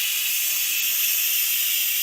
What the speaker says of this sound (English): Letting off a little steam here.